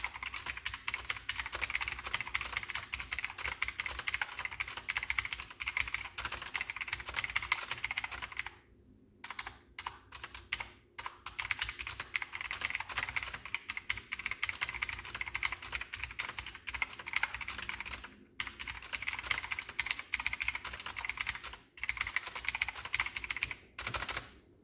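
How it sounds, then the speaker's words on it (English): Rapid typing on a MARVO KG962 budget keyboard with Jixian blue clicky switches: dense, crisp clicking keystrokes close up, running steadily with a few short pauses, no voices. "And I'll give you a sound test for these switches real quick."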